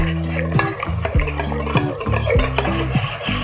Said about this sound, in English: Now in this flour mixture, I'll slowly add the milk and stir quickly